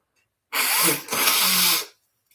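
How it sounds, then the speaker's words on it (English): A person blows their nose in two forceful bursts, a long broadband honk followed after a brief pause by a second one, close and loud against silence. "Excuse me while I blow my nose."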